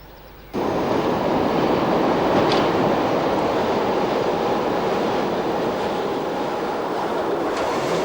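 A double electric locomotive, class 814, hauling a heavy train on the Gotthard line, a loud continuous rumbling roar with rail noise that starts abruptly and holds steady close by.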